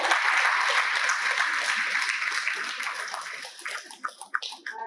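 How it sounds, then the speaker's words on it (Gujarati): An audience at a diet seminar in Mehsana claps loudly and steadily, then the applause thins out into scattered individual claps near the end. "મહેસાણાની આખી ટીમ માટે ખૂબ ખૂબ તાળીઓ પાડીશું"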